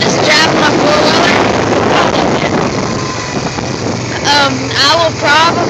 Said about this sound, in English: I just drive my four-wheeler